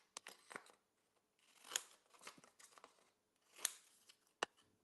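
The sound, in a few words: scissors cutting out a paper card piece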